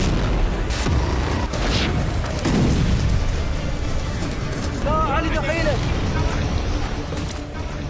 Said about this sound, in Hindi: इजराइल के कई इलाके बारूदी धमाके से धधक रहे हैं।